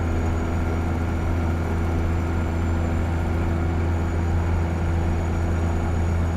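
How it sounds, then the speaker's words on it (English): A helicopter drones past in American Truck Simulator, a constant low rotor and engine rumble that stays steady and fairly loud throughout, with no talk over it. "Another chopper, look at that, jeez."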